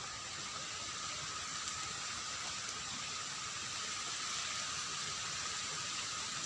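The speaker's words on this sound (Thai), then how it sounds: "ฝนตกครับผม" Rain falls beside the Mun river as a constant, even hiss of drops with no voices, holding steady from start to finish.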